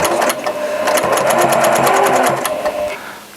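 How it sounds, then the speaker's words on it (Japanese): A Janome 780DX professional sewing machine stitches in a fast steady mechanical whir with rapid needle clicks, close and loud, starting and stopping within a few seconds. "ちょっと一回また縫ってみます"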